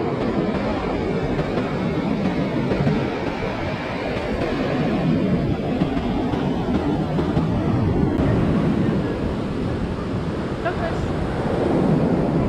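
Rough ocean surf breaks below the cliffs at Varkala Beach in southern India, a loud, continuous roar of waves mixed with heavy wind buffeting the microphone, steady throughout with no clear separate breaks.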